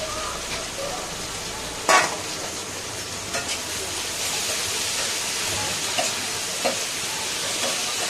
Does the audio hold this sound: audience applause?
no